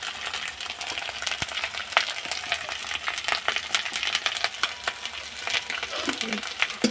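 Vegetables for a Malabar spinach and pumpkin curry fry in oil with turmeric and chilli powder, a continuous crackling sizzle punctuated by sharp stirring taps and scrapes.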